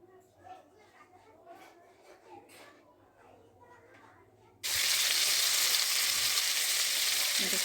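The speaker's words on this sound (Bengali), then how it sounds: "আমি ভেজে নিচ্ছি" Large freshwater prawns dropped into hot oil in a wok, erupting into a loud, steady sizzle after several seconds of quiet speech and kitchen background.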